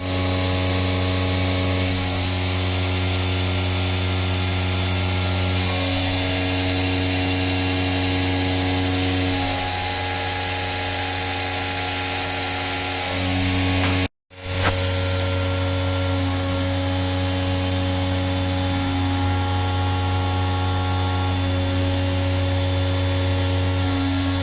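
A milling machine steadily cuts an aluminum-style trunnion part with mist coolant, a continuous loud whining hum with tonal spindle harmonics, briefly interrupted by a momentary cutout midway before resuming.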